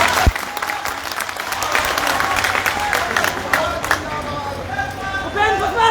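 An audience at a large rally on a club ground in Muzaffarpur applauds in a steady, dense wash of clapping that continues for several seconds, with crowd murmur underneath and some faint voices toward the end.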